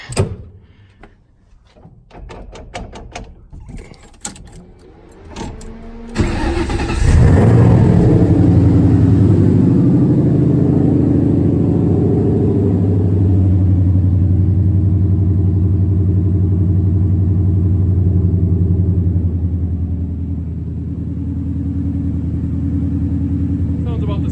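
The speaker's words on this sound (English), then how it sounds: "So let's see what the cold start's like." Coyote V8 swapped into a Fox-body Mustang with an H-pipe exhaust cold-starting: a few clicks and knocks, then the engine catches and settles into a loud, deep, steady idle rumble that holds to the end.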